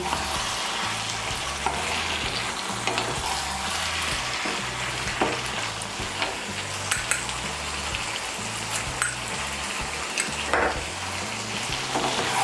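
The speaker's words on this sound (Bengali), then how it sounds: "এখন আঁচটা বাড়িয়ে দিয়ে একটু নাড়াচাড়া করে নেব" Fish head and pui shak (Malabar spinach) chorchori sizzles steadily in a pan over raised heat while a utensil stirs it, with scraping clicks and light clatter throughout, close and continuous with no talking.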